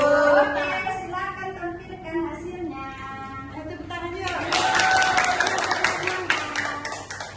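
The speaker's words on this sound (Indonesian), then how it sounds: "Tepuk tangan juga." A classroom audience claps for a student group that has just finished presenting, a burst of scattered applause that swells in the second half under and after talk from the teacher and students.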